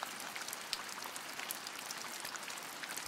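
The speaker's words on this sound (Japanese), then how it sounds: "夜中から雨が降り、" Rain falling overnight around a hot-spring inn with autumn foliage, a faint, steady patter of drops with scattered tiny ticks, continuous and quiet, no voices.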